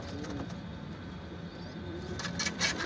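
A stray pigeon that has wandered indoors coos softly over a steady room hum, with a few brighter chirps or flutters near the end; no talking.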